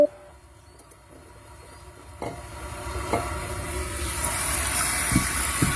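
Toilet tank refilling after a new fill valve is installed, a steady rising hiss of rushing water building louder over several seconds with a few faint clicks and knocks.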